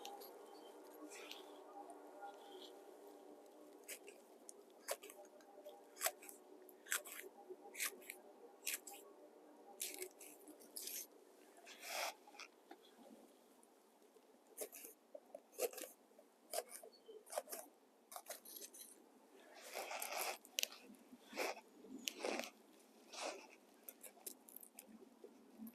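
A knife chops vegetables on a board for a hiking lunch, a loose series of soft close taps and cuts, irregular at first and then quicker, with quiet talk underneath.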